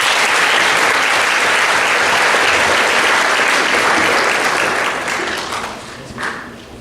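Audience at a high school athletic banquet applauding, a dense, loud burst of clapping that holds steady and then tapers off toward the end.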